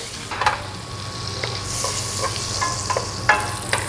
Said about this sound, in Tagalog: piprituin lang natin itong ating beef